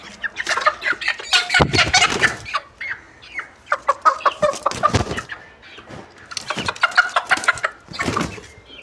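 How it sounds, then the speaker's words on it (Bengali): Newly bought Sonali chickens clucking close by in a quiet setting, with irregular bursts of sharp clucks and squawks that come in clusters, separated by short pauses. "আমি আজকে আবারও মুরগি কিনলাম 3টে"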